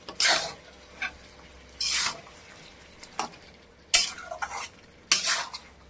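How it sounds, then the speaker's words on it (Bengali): Meat is stirred in a pan while cooking, with a utensil scraping and clattering against the metal in irregular bursts over a faint background sizzle, close and alone without talk. "মাংস কষানো চলছে আমাদের। করে কষাতে থাকবো নেড়ে চেড়ে।"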